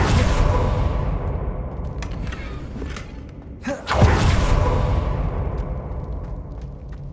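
The Confringo spell goes off in the video game Hogwarts Legacy as a fiery blast. A whoosh and thud land near the middle, over a rumbling, noisy in-game background with no talk.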